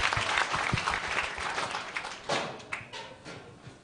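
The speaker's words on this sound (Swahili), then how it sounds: "Tupigie ordainees makofi" Applause for newly ordained reverends at a church ceremony in Kirinyaga, Kenya, a brief burst of crowd clapping that starts strong and thins out over a few seconds, with a few louder individual claps near the end.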